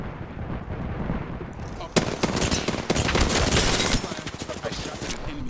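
Gunfire in the video game Apex Legends: rapid automatic bursts rattling almost continuously, with a sharp loud shot partway through, close and dense with game sounds underneath.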